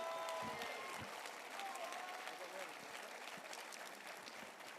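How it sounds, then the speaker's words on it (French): An audience at a gala show applauds warmly, a dense wash of many hands clapping that carries steadily throughout, with a presenter's voice briefly audible over the crowd at the start. "On peut encore l'applaudir bien fort, s'il vous plaît."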